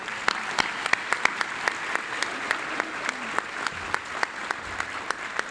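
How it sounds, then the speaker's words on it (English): Sparse, scattered clapping from a small audience at a university commencement, individual hand claps spaced fairly evenly over a faint room hiss, fairly close and modest in volume, no talking. "Let's give them a round of applause."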